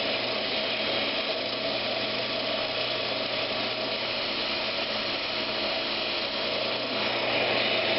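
A rolling pin spins on a wood lathe, a steady mechanical whir with a continuous scraping, cutting texture, loud and unbroken throughout.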